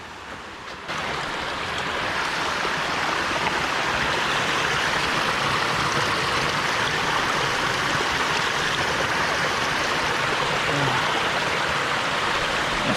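A Highland waterfall pours as a dense, continuous rushing roar close by, steady and loud with no voices over it.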